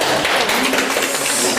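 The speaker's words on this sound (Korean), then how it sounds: "우리 서로를 경례 박수하겠습니다." Applause from an audience at a lecture class, a dense, steady patter of clapping hands that fills the room evenly from start to finish, with no voices standing out.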